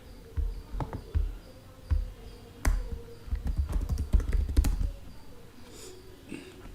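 Keys tapped on a computer keyboard while entering commands for a PostgreSQL install on Ubuntu, a loose run of light, close clicks in small bursts with brief pauses, ending in quiet.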